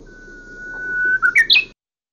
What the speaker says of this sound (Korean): 제주 휘파람새는 앞에 휘슬 부분이 하나로 이어진다